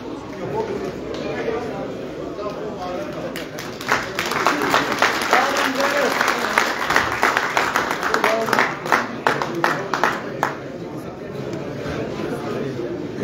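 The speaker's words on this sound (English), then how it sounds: "I think that applause was well deserved by Gareth." Audience applause at a Droughtmaster and Boran cattle breeders society event in South Africa, a dense wash of clapping that swells after a few seconds and holds steady with sharp individual claps, voices murmuring underneath.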